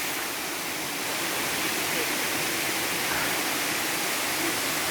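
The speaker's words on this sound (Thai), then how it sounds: "น้ำตกเอราวันชั้นเจ็ดครับ" Erawan waterfall's seventh tier pours down in a steady, loud broadband rush of flowing water, close by and continuous throughout.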